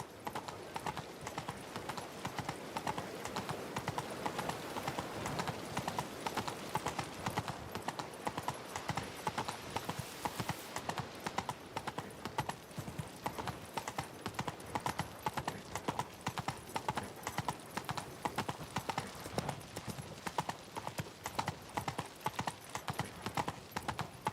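Roach, the horse in The Witcher 3, trots with rapid, steady clip-clopping hooves that stay close and loud throughout, a constant rhythmic patter with faint background ambience.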